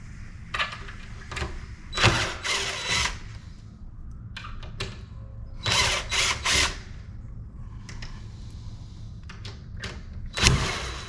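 A screw is worked loose during a repair, with close ratcheting clicks and mechanical rattles in several bursts separated by quieter gaps.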